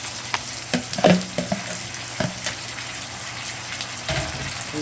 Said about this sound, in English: So I'll pour in the saltfish now